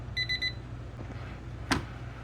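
A five-channel digital kitchen timer alarm gives a quick burst of three high electronic beeps, then falls quiet over a low background hum.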